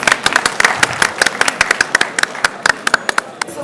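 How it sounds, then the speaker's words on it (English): Audience clapping at the inaugural ceremony of a university literature and film festival, a sparse crowd of distinct, sharp hand claps coming at an uneven rhythm, fairly close and loud, for a few seconds. "Give them a big round of applause."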